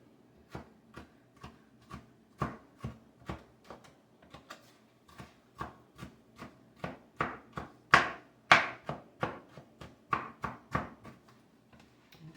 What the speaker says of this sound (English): Cut it a little bit fine. You don't want a big chunk of tomato.